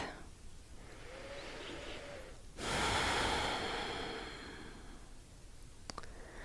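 Slow, deep breathing during stress-relief yoga, a long soft exhale rising and fading after a quieter stretch of breath, close and unhurried with a faint voice early on.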